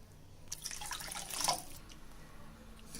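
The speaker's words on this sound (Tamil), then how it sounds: "ரெண்டு கப்பு சுகருக்கு ரெண்டு கப்பு வாட்டர் சேர்த்துக்கலாம்" Water is poured onto two cups of sugar in a pan for gulab jamun syrup, a short trickling splash that rises and fades over a couple of seconds, fairly quiet and close.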